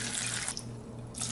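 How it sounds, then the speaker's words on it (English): Water pours from a tap or pitcher into a pot of chiles for red menudo in a home kitchen, a steady close splashing stream that dips briefly mid-pour and then surges again, with no talking. "And I'm gonna pour a little bit of water."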